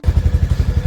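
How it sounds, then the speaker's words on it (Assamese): Motorcycle engine just started and idling, a brief burst of rapid, even low thumping pulses heard up close and loud. "এতিয়া মই বাইক ষ্টাৰ্ট দিলোঁ"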